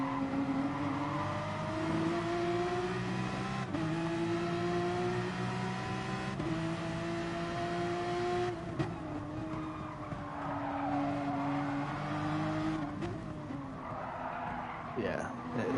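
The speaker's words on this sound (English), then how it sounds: "So these are mid-engine cars. They're not 911 Rs because the engine's more mid than it is rear. So these are GTE cars" Mid-engine GTE race cars howl around a circuit in a racing video game, steady high engine tones rising and falling through gear changes with tire skids, continuous and close, with commentators talking over it.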